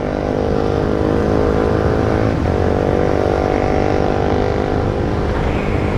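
A loud, steady engine drone fills the whole stretch, a Kawasaki W175 motorcycle running hard and close with a continuous roar and slight shifts in pitch.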